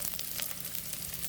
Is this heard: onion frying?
yes